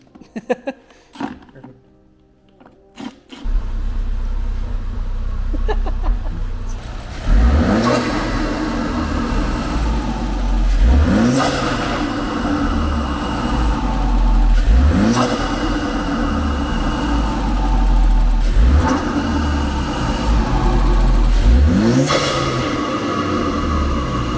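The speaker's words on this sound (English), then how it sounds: "Turbo whooshy noises." A turbocharged Ford Focus RS engine idles loudly, then revs repeatedly in strong rising sweeps, each followed by a whooshing turbo release, close by.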